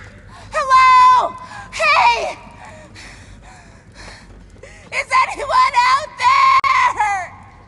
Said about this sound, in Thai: นี่เป็นเสียงตัวละครที่แบบว่าน่าจะตะโกน ดังสุดในเกมแล้วล่ะ